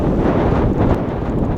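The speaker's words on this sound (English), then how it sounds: "Okay, a lot windy out." Strong wind on a golf course during an early-season tournament buffets loudly and steadily, a rough, close rumble with no talking.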